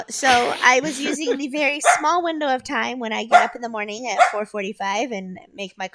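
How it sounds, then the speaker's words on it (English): Dogs bark and yip behind a continuous nearby speaking voice, with the barking partly buried under the talk throughout. "I apologize for the dogs barking in the background."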